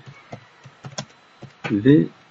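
Keys clatter on a computer keyboard in short irregular bursts of clicks, close and fairly faint, with a louder burst near the end.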